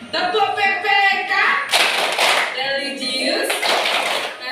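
A classroom of children claps out the rhythmic PPK clap pattern together, loud and close, with sharp bursts of hand claps between chanted voices.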